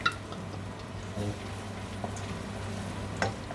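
Garlic fries in leftover pork oil with a low, continuous sizzle, punctuated by a few stirring scrapes and clinks close by.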